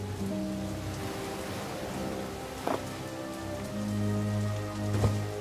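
Steady rain falls in the video game The Dark Eye: Chains of Satinav, a soft continuous patter over low ambient music tones, with a couple of brief louder splashes and no voices.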